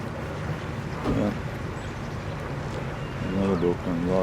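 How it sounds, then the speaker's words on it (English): Another boat motors past on a river below open locks, a steady low engine rumble running under brief bits of talk. "Another boat coming. A lot of boats going by today."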